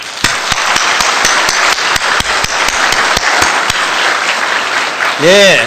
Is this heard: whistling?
no